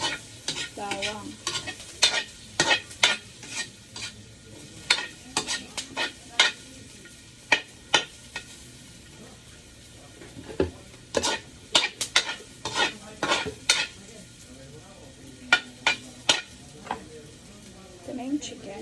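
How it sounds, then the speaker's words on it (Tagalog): Chicken sautéing in a pan with golden-brown garlic, a quiet background sizzle punctuated by frequent sharp clacks and scrapes of a utensil stirring against the pan, irregular and close, with faint speech at moments. "igigisa na rin natin dyan yung chicken"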